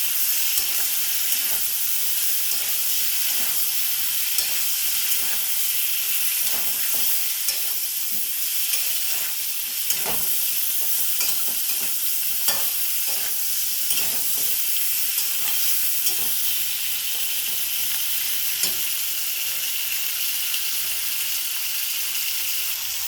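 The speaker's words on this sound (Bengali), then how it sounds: "এর মধ্যে কেটে রাখা বেগুনগুলো দিয়ে দিলাম, আর লঙ্কা জিরা টমেটো যেটা কুচিয়ে রেখেছিলাম সেটা দিয়ে দিলাম। ভালো করে নেড়ে নিই।" Chopped eggplant, chilli, cumin and tomato sizzle in hot oil while being stirred, a continuous frying hiss broken by repeated scraping and tapping of a spatula against the pan.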